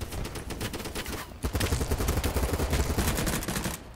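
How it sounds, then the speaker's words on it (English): Rapid automatic gunfire rattles in a first-person shooter video game, with dense bursts of shots that pause briefly then resume louder and continuous, close and alone. "I shot some enemies sneaking up back here."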